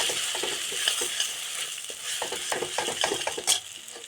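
Two cracked eggs fry in hot oil in a wok, a continuous sizzle broken by quick clicking scrapes and taps of a utensil, heard close with no talking.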